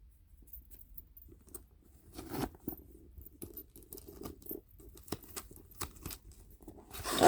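The double-zip center compartment of a Coach handbag is opened up close, with short, scratchy zipper pulls and soft rustling and crinkling of the bag, irregular and fairly quiet.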